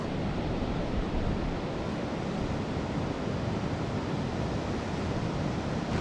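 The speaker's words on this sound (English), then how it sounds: "We just woke up to some increased winds and it's pouring down rain." Strong storm winds with pouring rain at an Alaskan campsite without a tent, a continuous dense roar of wind buffeting and rain noise, loud and unbroken with no voices.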